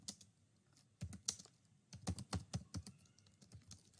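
Typing on a computer keyboard, scattered clicks and quick bursts of keystrokes at an uneven pace, quiet and close, with no talking.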